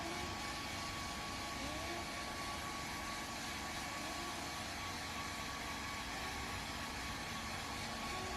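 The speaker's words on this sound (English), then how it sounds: "I had the blow dryer on her and the heat lamps going" A blow dryer runs continuously to dry a newborn alpaca on an off-grid farm, a steady, even whooshing drone of blowing air that stays at the same level throughout, with no speech.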